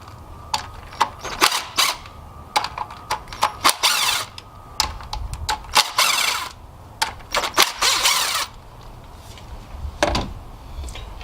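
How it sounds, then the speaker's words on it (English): Ratchet clicks and sharp metallic taps come from loosening the 10mm screws that hold down the coil packs on a Toyota 2AZ-FE engine, in irregular close bursts with brief scraping between. "Now I'm going ahead and loosen up all the 10mm screws that are holding down the coil packs."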